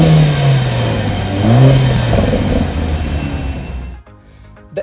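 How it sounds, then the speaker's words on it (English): A 2022 Mercedes-Benz A45 S 4MATIC with a 421 bhp four-cylinder turbo petrol engine and quad 90 mm exhaust tailpipes revs loudly, the engine note rising and falling before cutting off abruptly, close by and without talking. "Let's just listen and see how this exhaust sounds right now."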